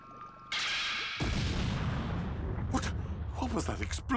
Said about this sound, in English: What was that explosion just now?